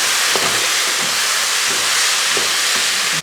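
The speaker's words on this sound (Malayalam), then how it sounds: "തക്കാളി സവോളയൊക്കെ ഇത് നല്ലപോലെ വഴറ്റി വരുന്നുണ്ട്." Tomatoes and onions sautéing in a pan for a duck curry, a steady loud hiss of frying with faint scraping touches, no talking.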